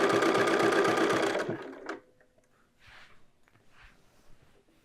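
A sewing machine fitted with an edge stitch foot runs loud and close with a rapid steady chatter, edge stitching a button band from the armhole, then stops abruptly, leaving faint handling rustles and light breathing.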